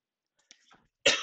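A single sharp cough bursts out loud and close after a brief stretch of faint murmuring, from an adult with a mild throat irritation.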